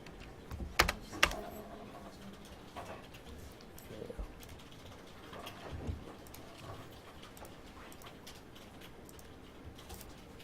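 Computer keyboard typing in a classroom setting, with faint scattered key taps and a couple of sharper clicks over a low room hum, quiet and irregular throughout.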